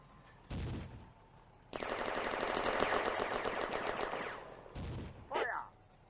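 Artillery fire in a video game, a heavy boom followed by a long rattling burst of rapid fire lasting a few seconds, then another thump and a short whistling shriek, moderately distant with some echo.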